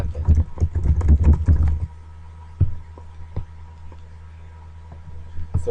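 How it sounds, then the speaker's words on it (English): Typing on a computer keyboard in Microsoft Word 2010, a dense run of quick clicks for about two seconds, then a few scattered keystrokes with a faint steady hum underneath. "See how I'm just typing stuff?"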